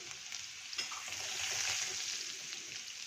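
Asafoetida, garlic and curry leaves hit hot oil for chana chaat, giving a close, bright sizzle that swells and hisses steadily for a few seconds with faint stirring.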